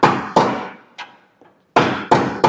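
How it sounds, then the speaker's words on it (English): A hammer strikes a long steel pry bar wedged at the idler arm pocket of a Chevy GMC 2500, five or six sharp metallic blows in an uneven rhythm, close and loud, with a short pause midway. "use a long pry bar here and just kind of hammer it"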